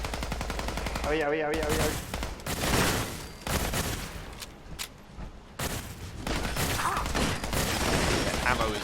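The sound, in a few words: gunfire from a gun in the video game Fallout 4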